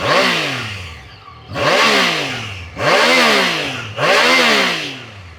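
A 600cc inline three-cylinder motorcycle engine, starting and then blipped in four loud, close revs, each rising and falling in pitch with short pauses between.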